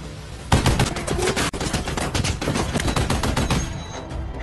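A captain's gun fires in dense, rapid bursts of loud, close gunshots that run almost continuously through the stretch.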